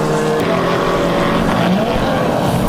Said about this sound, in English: we have a battle for position going on between Joe Pesto and Ken Myers driving both BMWs